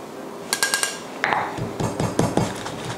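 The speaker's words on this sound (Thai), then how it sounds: "โขลกให้เข้ากันครับให้ละเอียดไปเลย" Coriander seeds and cumin are pounded in a mortar for red curry paste, giving a run of quick clinks and then heavier, irregular thuds of pestle on stone, close and fairly loud with no talking.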